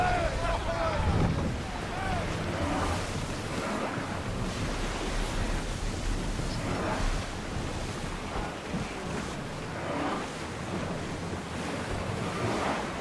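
Ship sailing in the video game Assassin's Creed Odyssey, waves and surf washing against the hull with steady wind rushing, a game voice sounding briefly at the start.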